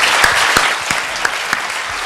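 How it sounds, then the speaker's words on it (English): An audience claps in a loud, close burst of applause with a few sharper individual claps standing out above the continuous patter, no talking over it. "Give him a huge round of applause."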